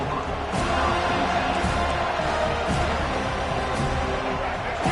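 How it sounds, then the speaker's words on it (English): A stadium crowd at a football game roars loudly and continuously as the visiting team takes the field, with an announcer's voice faintly mixed into the dense, steady cheering. "This crowd bringing an ear-splitting welcome to their visitors."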